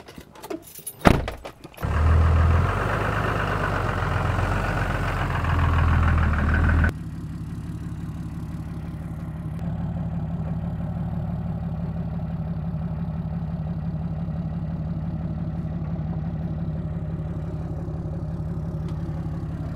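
A truck engine idles with a trailer hooked up on a farm. After a few clicks and clatter, a louder rumble gives way to a steady, moderate low hum that holds to the end.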